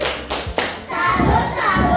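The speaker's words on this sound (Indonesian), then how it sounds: "Coba beri tepuk salut." Children in a classroom give a rhythmic 'tepuk salut' clapping cheer after a group succeeds at making strawberry ice cream, a few sharp claps and thumps followed by a burst of kids' voices, close and lively.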